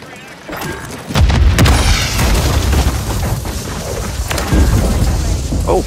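A grenade goes off in a video game with a loud, deep boom that rolls into a long rumbling decay, followed by another thump later, with people talking around it.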